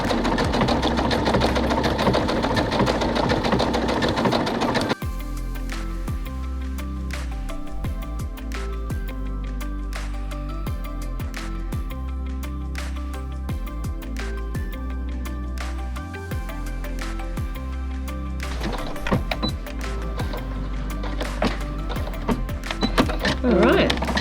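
Sewing machine stitching an appliqué design on a cushion, a loud close mechanical whirr running continuously with rhythmic ticking and slight speed changes throughout.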